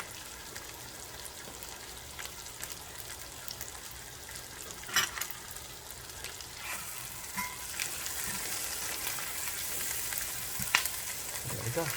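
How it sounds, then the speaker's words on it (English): A porterhouse steak searing in a hot skillet gives a faint, steady sizzle with a few sharp pops and scrapes, quiet and continuous, with no speech over it. "So stand by as it's cooking and searing on this side."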